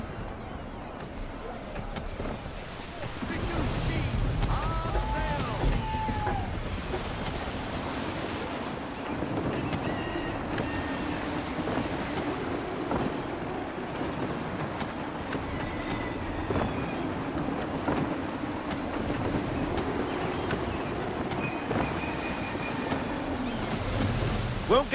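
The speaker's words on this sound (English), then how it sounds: "Wind looks to be shifting. Stay alert, Connor. Gusty winds can be difficult to manage." Wind and waves surge steadily around a sailing ship in Assassin's Creed III, a constant rushing wash with occasional faint creaks and distant cries layered over it for the whole stretch.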